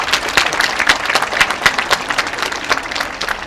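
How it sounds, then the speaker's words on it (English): Audience applause at a school felicitation ceremony, a steady dense patter of many hands clapping close by with no pauses, holding an even loudness throughout. "A big round of applause for the parents who are sitting here."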